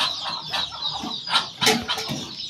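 Chickens and ducks kept indoors in a shed during cold weather cluck and call in short, overlapping bursts at moderate distance, with a few louder squawks and faint rustling but no talking.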